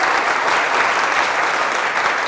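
Studio audience applause on a comedy show, a dense uninterrupted wash of many hands clapping, loud and close throughout.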